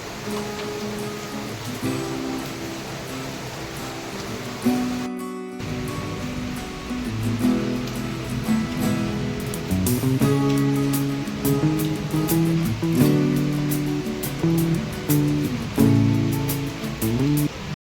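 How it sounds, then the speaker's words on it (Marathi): Heavy monsoon rain with a large stream rushing behind a house, a dense continuous wash of water, loud and unbroken, with a short break partway through. "जोरात पाऊस चालू आहे आणि इथं बघा, इथं एक ओढा आहे."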